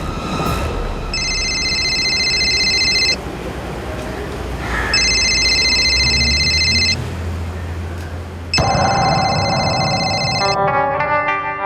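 A telephone rings in three long electronic bursts separated by pauses, loud over a noisy, rumbling background.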